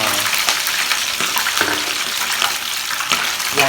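Fish frying in a pan, a steady loud sizzle and crackle of hot oil filling the whole stretch, close up, with faint scraping now and then and no talk.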